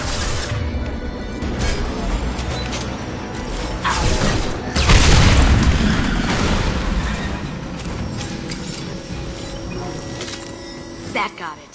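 A tank explodes in the video game Mass Effect 2: a heavy boom and crashing debris rise amid battle noise and mechanical clatter, then fade into a lingering rumble while voices talk.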